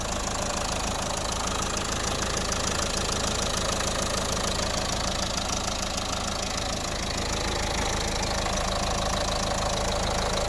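A 2010 Nissan Qashqai+2 1.5 dCi diesel engine idles steadily, a continuous rattling clatter with a faint knocking rhythm, close and unchanging throughout.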